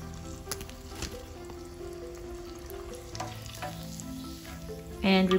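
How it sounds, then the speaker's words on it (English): Battered quail eggs fry in hot oil, giving a steady, close crackling sizzle throughout that gets briefly louder near the end. "Coat your quail eggs in the batter. And we're ready to fry."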